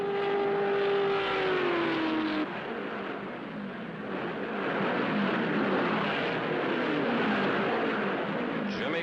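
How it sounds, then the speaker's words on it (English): A red STP Special race car streaks past at the 1966 Indy 500 at Indianapolis, its loud engine whine dropping in pitch as it passes, followed by a broad, steady roar of engines and crowd noise. "Jimmy Clark streaking by in his red STP Special"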